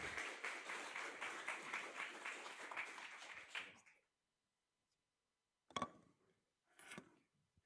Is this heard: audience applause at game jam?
yes